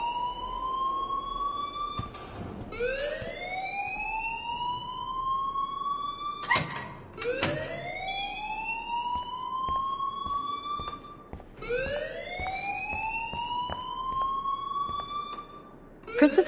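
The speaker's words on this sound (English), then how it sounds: "please turn off that alarm since that's your job" A rising-and-falling electronic alarm wails in the Life is Strange video game, sweeping upward in repeated cycles with sharp clanks between them, fairly close and continuous, with faint voices underneath.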